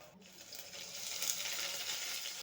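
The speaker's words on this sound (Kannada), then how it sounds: "ಇಲ್ಲಿ ನಾನು ಎರಡು ಮೀಡಿಯಮ್ ಸೈಜ್ದು ಈರುಳ್ಳಿ ಕಟ್ ಮಾಡಿ ಇಟ್ಕೊಂಡಿದ್ದೀನಿ ಅದನ್ನು ಹಾಕ್ತಾಯಿದ್ದೀನಿ" Two medium onions, already cut, tipped into a hot frying pan, giving a soft, steady sizzling hiss that swells slightly and carries on evenly with no speech.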